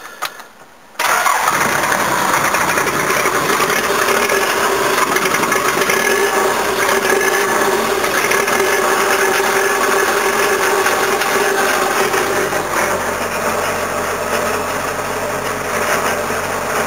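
Diesel engine of a BJ40 Land Cruiser running rough just after a cold start with two flooded cylinders, starting abruptly after a second of quiet and then holding a loud, steady, close-up clatter to the end, with no talking.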